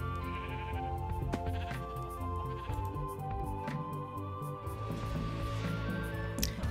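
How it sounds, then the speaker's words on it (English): Sheep bleat repeatedly in the video game Minecraft, short wavering cries over game background music, fairly faint and spread across the whole stretch. "Poor little sheep."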